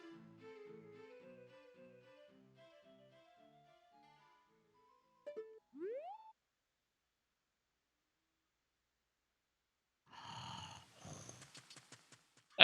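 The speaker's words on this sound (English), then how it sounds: "That gave us the same snoring sound again." A video game character snores: drawn-out rasping breaths in a slow rhythm, faint and tapering over several seconds. Brief electronic tones follow, then a short burst of buzzy game sounds after a silent gap.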